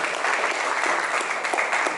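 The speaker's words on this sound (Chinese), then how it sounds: "要用热烈的掌声" Loud, dense applause from an audience at an award and acceptance-speech ceremony, steady clapping filling the whole moment close by.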